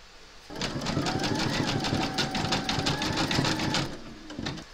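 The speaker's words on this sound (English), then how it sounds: "You're now going to stitch round number 4, and that's going to zigzag around the edge here." A sewing machine runs a zigzag stitch around an appliqué edge, a rapid even mechanical rattle starting abruptly, holding steady for about three seconds, then slowing and stopping.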